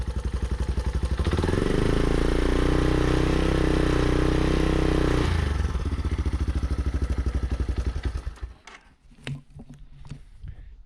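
A 1986 Yamaha YFM200DX Moto4 ATV engine, close and loud, revs up from idle, holds a steady high rev for several seconds, then drops back to a rough idle with some clattering.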